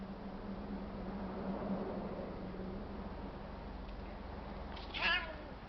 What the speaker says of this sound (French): il y a un petit chat là, noir et blanc que je connais pas.